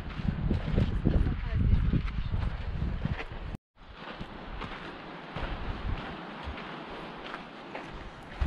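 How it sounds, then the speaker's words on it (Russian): Wind buffets the microphone in strong gusts at Twin Lakes near Lake Tahoe, a rough roaring rush that briefly cuts out and then continues more steadily. "Все вокруг, а ветер поет."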